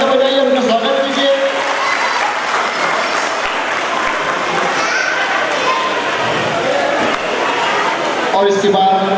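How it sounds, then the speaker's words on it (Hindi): Audience claps loudly and continuously in a dense, sustained wave of applause welcoming a guest, with crowd murmur underneath and a voice speaking briefly near the end. "जोर से तालियां बजाइए, उनका स्वागत कीजिए"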